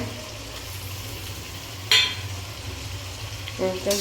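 Onion, ginger and garlic paste fries for a mutton liver dish, a steady soft sizzle in the pan broken by two sharp scraping clinks of a spoon against the pot.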